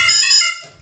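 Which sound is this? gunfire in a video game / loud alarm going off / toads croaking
loud alarm going off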